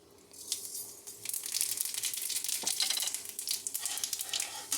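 Fennel seeds drop into hot oil in a pan and sizzle, a close, crackling hiss that swells after the first second and keeps spitting in uneven bursts with no talking.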